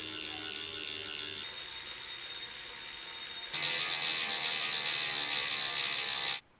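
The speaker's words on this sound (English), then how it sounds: "The noise you're hearing there is the freehub ticking away." Bicycle freehub pawls tick in a rapid continuous buzz as the rear wheel coasts on a smart trainer, close and fairly loud, the ticking shifting in pitch and intensity partway through with no talking.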